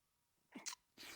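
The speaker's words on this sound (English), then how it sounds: "excuse me, I felt like I had to sneeze" A single quick, quiet sneeze from a person in a quiet room, a short sharp burst with a brief breathy tail.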